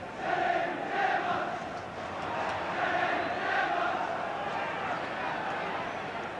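Liverpool supporters on the Kop roar and chant through a Liverpool v Ipswich Town match, a steady, swelling crowd noise with rhythmic chanting that rises and falls and never drops out.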